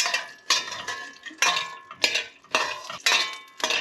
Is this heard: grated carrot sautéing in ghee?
yes